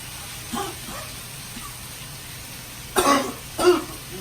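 A woman cooking sausage, shrimp and vegetables coughs and clears her throat a few times, close and fairly loud: a small cough early, then two harsher throat-clearing bursts near the end.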